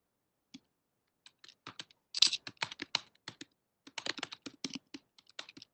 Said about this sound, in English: Oh, he's typing.